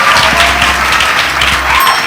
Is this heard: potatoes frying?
no